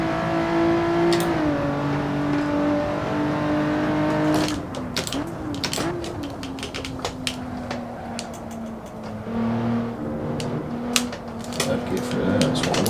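A race car in Assetto Corsa accelerates and shifts through gears, its engine note dropping and climbing again across the run, loud and continuous beneath a voice talking.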